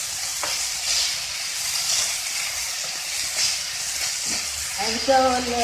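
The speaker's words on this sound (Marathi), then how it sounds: "चांगला व्यवस्थित खरपूस भाजून घ्यायचा दलिया।" Broken wheat (dalia) roasts in a pan for Maharashtrian lapshi, making a steady dry sizzle and hiss with scraping stirring strokes, and a short tonal sound near the end.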